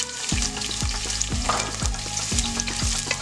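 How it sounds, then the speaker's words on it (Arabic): Onion and garlic fry in hot olive oil in a stainless steel pot, a steady close sizzle broken by about six sharp metallic knocks of a utensil against the pot at a regular rhythm, with no talking. "منقليهم شوي بالزيت يلي صار حامي"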